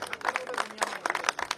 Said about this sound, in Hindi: उनके लिए भरपूर तालियां